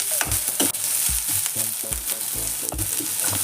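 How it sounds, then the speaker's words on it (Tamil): Shallots fry in a pan for a dry country-chicken pepper dish, with a continuous close sizzle broken by frequent spoon stirs and clinks against the pan. There is no talk. "வெங்காயம் நல்லா வதங்கிடுச்சு"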